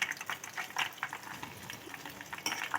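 Hibiscus leaves and flowers bubble in hot oil over a medium flame, a steady crackling sizzle with small irregular pops, close and fairly quiet.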